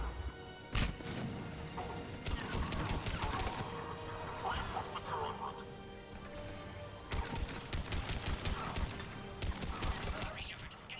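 Gunfire and crashing impacts in Mass Effect 3 during a heavy attack on a pod, repeated bursts and hits over a steady battle din, with game voices talking between them.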